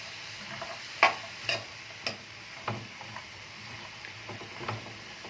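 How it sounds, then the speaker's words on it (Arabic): Rice and vegetables stirred in a pan on a stovetop for a béchamel rice bake, with a spoon scraping and clinking against the pan in scattered sharp ticks over a soft, steady sizzle. "هسيبها بس ايه ربع ساعه كده على البوتاجاز بس تتشوح"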